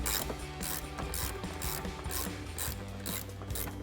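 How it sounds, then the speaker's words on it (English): Hand ratchet tightening a nut on a headlight wiring connector, producing rapid, close, regular clicking in quick strokes throughout, loud and alone. "I'm going to use a hand ratchet for this one, just so we have enough room to get in there."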